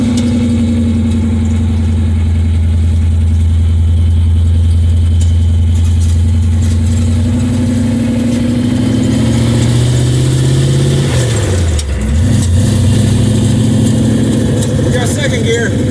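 A 1929 Model A with a big-block engine and four-speed runs loud and steady while driving, its low drone rising as it pulls through a gear change near the end, with voices talking over it.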